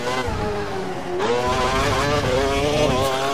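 An F1 car in the F1 2012 video game accelerates hard out of a corner at Bahrain's Sakhir circuit, its high, buzzing engine note climbing steadily through the gears, loud and close with no talk.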